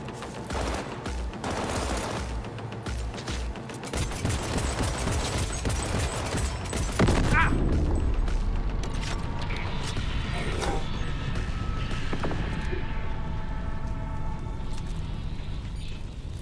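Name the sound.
turret shooting at player in video game Cyberpunk 2077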